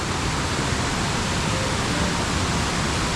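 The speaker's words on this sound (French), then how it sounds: "Et là, il y a un petit torrent à traverser." A small mountain torrent on the Col de la Seigne rushes steadily, filling the scene with a loud, unbroken hiss of flowing water and no talking.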